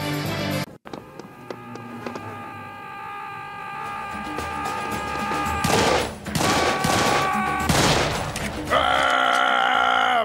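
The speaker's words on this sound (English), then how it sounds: "it's the sound of a headless bomber" A loud, harsh headless bomber scream from Serious Sam rising and falling over noisy backing sounds, ending in a sustained shrill wail.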